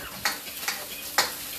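Vegetables, including onions, carrots and peppers, stirred together in a pan: three sharp scraping strokes over a soft, continuous sizzle, close by and without any voices.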